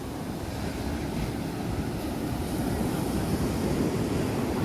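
Sea waves washing onto a beach after sunset sound as a continuous broadband rush with heavy low rumble, steady and fairly loud, likely mixed with wind on the microphone and no clear voices.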